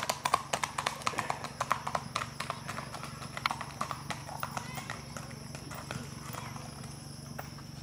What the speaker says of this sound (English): That's a horse right there now.